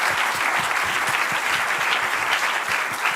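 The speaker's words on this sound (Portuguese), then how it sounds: "agora eu quero puxar uma salva de palmas para os speakers aqui" Steady, dense applause from a conference audience honouring three panel speakers, evenly sustained and fairly close throughout with no talk over it.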